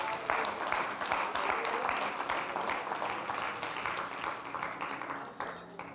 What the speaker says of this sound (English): We ought to just give them a big hand clap this morning.